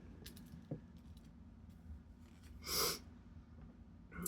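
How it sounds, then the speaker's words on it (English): A single brief, breathy sniff stands out in a quiet room, close and soft against faint background noise with a few small clicks, and no one speaks. "Excuse my sniffles."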